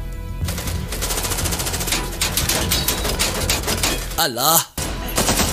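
Automatic rifle gunfire from a translated thriller movie, rapid sustained bursts rattling loudly through most of the stretch, with a brief swooping effect near the end and a voice speaking briefly over the shooting.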